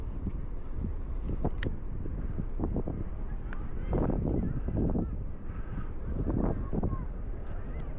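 Strong wind buffets the microphone on the beach at Koksijde, a steady low roar throughout with surges, while people talk over it.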